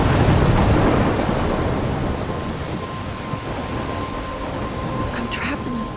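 A thunderstorm in the video game Life is Strange: heavy rain pours steadily while thunder rumbles loudly at the start and fades into a constant downpour.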